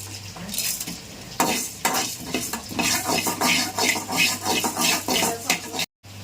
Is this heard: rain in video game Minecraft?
no